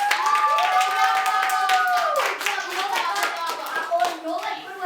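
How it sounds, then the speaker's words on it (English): Children clap for a young actor in a classroom reading, a steady patter of small hands under excited, high-pitched kids' voices that keep going throughout. "can we give our actor a round of applause?"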